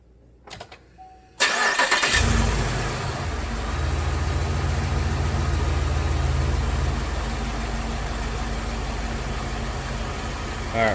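A 2007 Chevrolet Monte Carlo SS engine cranks briefly with a few uneven clicks and turns, then fires and settles into a steady, close idle that runs unbroken to the end.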